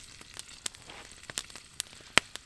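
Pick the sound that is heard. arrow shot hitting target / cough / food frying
food frying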